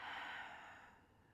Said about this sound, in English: We're going to breathe in and out.